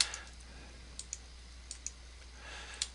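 Sparse, faint mouse clicks on a computer running MicroStation drafting software, single sharp ticks spaced irregularly over a quiet room hum with no talking.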